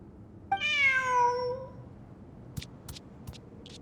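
A cat meows once in Genshin Impact, a single long, clear, rising-and-falling call, followed by a few faint clicks against quiet background ambience.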